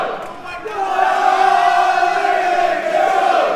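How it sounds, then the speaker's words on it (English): A crowd at a professional 135 lb MMA bout sings a sustained, loud chant for fighter Lee Mitchell, a steady massed drone of voices filling the venue throughout. "There's only one Lee Mitchell, I think they're saying."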